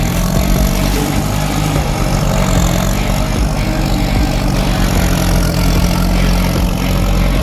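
A farm tractor engine runs steadily throughout while working on a land-filling job, a loud, close, continuous low rumble with no breaks.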